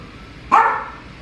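A grandmother's dog lets out a single short, loud bark indoors at Christmas, with no talk over it.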